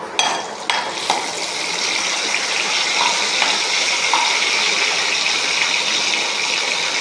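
Vadagam frying in hot oil as the tempering for a kuzhambu, a loud, steady sizzle and bubbling that fills the whole stretch, with a few sharp crackles and pops early on and no talk.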